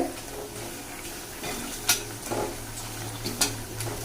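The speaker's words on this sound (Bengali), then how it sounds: "আঁচটা একদম কমিয়ে দিয়েছি নাহলে না পুড়ে যাবে ভাজাটা তো যাই হোক এখন ভেজে নিই" Food frying gently in a pan over a low flame, a soft steady sizzle broken by a few sharp clinks of a utensil against the pan, close by with no talking.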